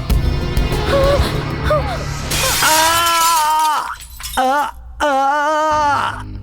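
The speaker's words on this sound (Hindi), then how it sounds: "अच्छा हुआ ये शीशा मेरे सर पर गिरा और चकनाचूर हो गया।" A glass pane shatters with a loud, bright crash as it breaks over a man's head in an action film scene, followed by strained groaning and moaning voices.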